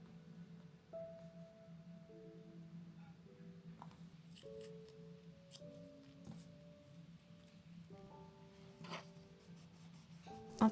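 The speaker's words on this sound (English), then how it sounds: "I just wrote a little note to myself here" Pen writing a note in a journal, close and quiet: soft scratchy strokes in short irregular runs over a low steady hum, with a faint tap at the end.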